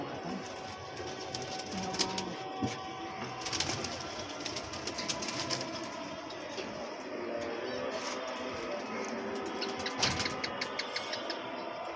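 Pigeons in a new pigeon loft coo softly and keep on cooing under a constant busy background, with scattered clicks and flutters nearby.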